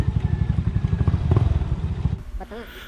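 A motorcycle engine chugs loudly and close by with rattling clatter on a rocky road, then cuts out near the end as a voice briefly speaks.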